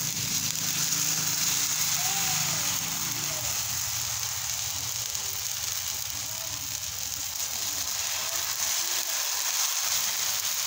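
Batter sizzles on a hot tava griddle, a steady, dense hiss of frying that runs unbroken and fairly loud throughout, with faint background sounds but no clear speech.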